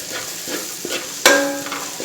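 Onions, spices and aromatics sautéing in a pan for pepper chicken curry, a close, steady sizzle with a spoon stirring and scraping, including one sharp clatter midway.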